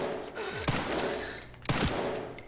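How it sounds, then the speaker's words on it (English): Gunfire from Resident Evil Requiem, two loud close shots about a second apart, each with a sharp crack that rings off, over a steady game ambience with no talking. "just shoot this guy"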